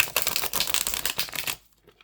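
Tarot of Oneness cards with fairly stiff cardstock being shuffled, a rapid run of close, crisp riffling clicks and flutters lasting about a second and a half before falling silent.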